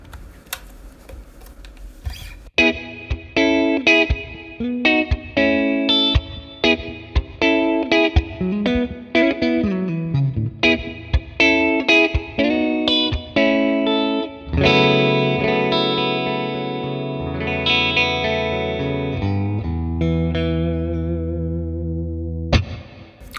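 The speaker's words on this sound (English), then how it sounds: "Let's add some reverb." Electric guitar played through a capture of a 1966 Fender Blackface Bassman with reverb added: loud, distorted single notes and chords in a quick phrase, then long ringing sustained chords with a reverb tail, no voices.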